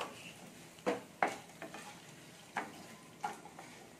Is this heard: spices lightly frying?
yes